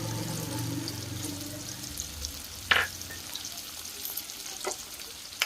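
Ground chili, turmeric and cumin-pepper powder sizzle steadily in a hot pan as they're stirred for crispy baby corn, with a brief scraping clatter midway and soft spatula taps near the end.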